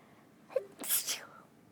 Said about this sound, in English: hang on, I'm about to sneeze.